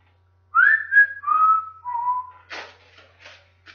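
A person whistles a short descending tune of a few sustained notes, fairly close and alone, followed by some brief rustling noises.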